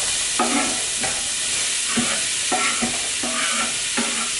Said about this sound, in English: I've got this butter sizzling here, so I'm just going to add the onion now